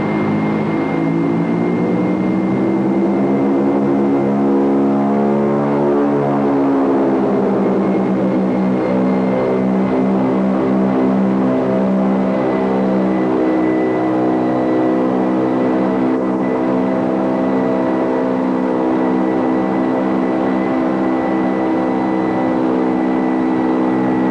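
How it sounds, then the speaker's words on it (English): Loud, steady roar of a B-17 bomber's large piston engines rising in pitch as they power up for a go-around, a droning hum that fills the entire stretch. "It's kind of cool hearing the engines come up to power as we start to go around."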